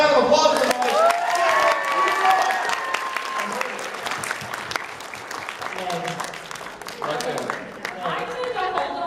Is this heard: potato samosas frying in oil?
no